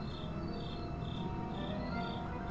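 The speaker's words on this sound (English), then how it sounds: "looking at the actual recording, I can tell the crickets are being picked up!" Crickets chirp steadily inside the Glittering Grotto cave area of the Ni No Kuni video game, a soft, continuous high trilling that repeats in regular pulses beneath a low ambient drone.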